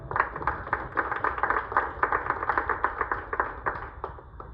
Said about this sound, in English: I guess I can't clap too loud holding the microphone